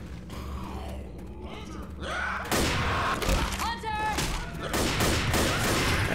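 Shotgun blasts ring out in the zombie shooter Left 4 Dead, loud bursts of gunfire over clanking mechanisms, creaks and infected growls, with a person talking over the action.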